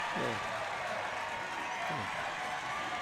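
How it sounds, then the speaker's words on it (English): Crowd at a La Jolla water polo match erupting after a goal, a steady wash of cheering and applause throughout with a commentator talking over it. "You can hear the crowd go wild here."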